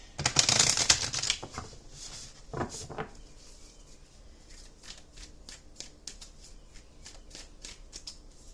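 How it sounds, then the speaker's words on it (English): Oracle cards are shuffled in one loud close riffle at the start, then comes softer card handling with light taps and flicks as cards are pulled. "I'm going to pull from a few of my oracle cards"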